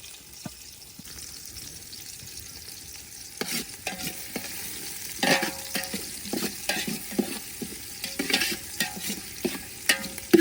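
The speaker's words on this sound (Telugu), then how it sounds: "పచ్చిమిర్చిని వీటన్నిటిని పచ్చివాసన పోయేంత వరకు దోరగా వేయించుకోవాలి" Green chillies stir-fried in a pan until they lose their raw smell, a low sizzle under irregular scraping and clacking of a spatula that grows busier partway through, close up.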